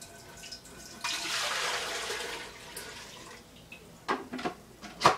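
Water pours into a home-brewing pot, about three gallons, as a steady rushing stream for roughly two seconds. It tapers into lighter splashes and drips, then a few sharp knocks against the pot.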